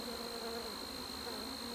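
Bees from a broken-down beehive hum in a steady, close, continuous buzz that stays even throughout, with no talk over it.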